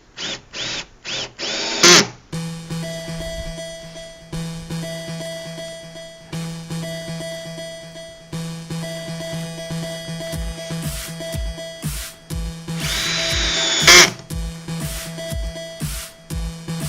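An electric drill whirs in repeated bursts as it drives screws into wood. Each run is a steady motor whine, with short pauses between screws and a sharp louder burst near the middle.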